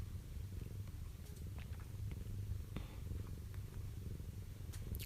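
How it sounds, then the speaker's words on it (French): A low, steady rumbling purr from a cat continues throughout, close and soft, with a few faint ticks in the background. "tout comme le corps du chat va vibrer lorsqu'il ronronne."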